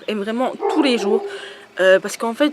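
A dog yips and whimpers in the background while someone talks over it, with short barks between her phrases.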